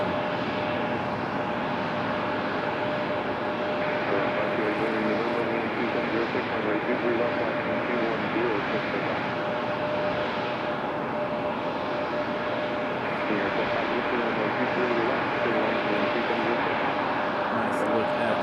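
A JetBlue airliner passes at Raleigh Durham airport, its engine noise a steady, moderately distant roar throughout, with a steady whine above it.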